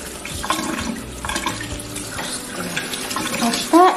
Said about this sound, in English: I'm now going to wash all as much of the dirt as I can off these tubers.